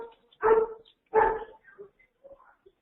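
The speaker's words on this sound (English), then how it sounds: "Those are my poodles barking." Two loud barks from poodles indoors, spaced about half a second apart, followed by a few faint yips and whimpers tapering off; no talk over them.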